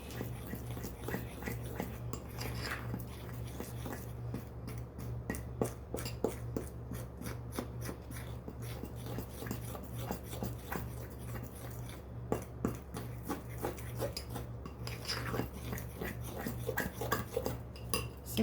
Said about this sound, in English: Just keep mixing and mixing and mixing